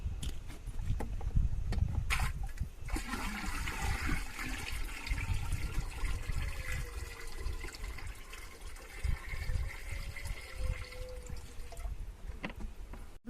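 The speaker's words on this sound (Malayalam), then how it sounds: "നമ്മുടെ വെള്ളം പിടിച്ച് വെച്ച് ക്യാനിലേക്ക് വളം ഒഴിച്ചു കൊടുക്കാം" Water mixed with dissolved fertilizer pours into a can for cardamom plants, a continuous gurgling liquid stream running over ten seconds, faint and close, with no voices.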